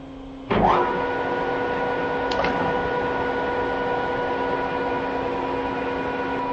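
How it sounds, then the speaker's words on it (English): A thread rolling machine rolls a 1-inch 8 pitch thread into hot rolled 1040 steel, starting with a sharp clunk and settling into a loud, steady mechanical hum with tonal whine, with a brief clank partway through. "We're rolling today a 1-inch 8 pitch thread, hot rolled steel, 1040 material."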